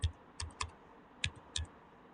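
Keystrokes on a computer keyboard while an SQL insert query is entered in phpMyAdmin, a few quick clustered clicks then separate taps, fairly close and clear with no talking.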